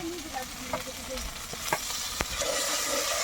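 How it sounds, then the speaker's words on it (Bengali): Spice paste with turmeric and salt frying in a pan while being stirred, a close steady sizzle broken by scraping strokes and small clicks from the stirring utensil. "আমার মশলা কষানো হয়ে গেছে"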